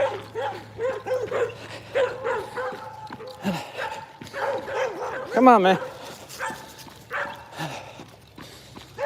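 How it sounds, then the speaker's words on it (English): Dogs bark and yip repeatedly nearby, with whimpering in between, while a person talks briefly over them. "noisy dogs"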